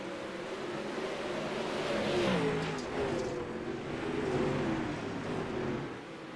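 Race cars in an ESRA Pro Series event at Indianapolis accelerate at the green flag, a loud layered engine roar that swells around the second and again near the fourth, with no talk over it.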